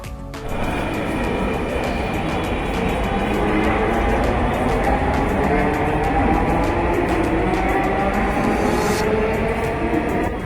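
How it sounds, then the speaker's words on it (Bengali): A Dhaka metro rail train runs with a loud, continuous mechanical rumble and rising electric whine, heard from on board at Kazipara station with no talking over it. "মেট্রো রেলের সাউন্ডটা আসলে অনেক জোস"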